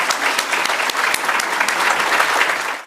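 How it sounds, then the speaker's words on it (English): An audience gives Cook County President Toni Preckwinkle a round of applause, loud, dense clapping from a full room that holds steady for nearly three seconds before cutting off sharply. "Let's have a round of applause for President Preckwinkle."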